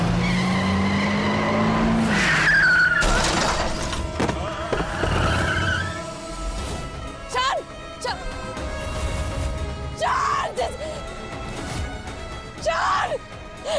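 Tires squeal loudly as a car skids to a stop, followed by several more sharp screeches and bursts of engine and road noise in a dramatic scene.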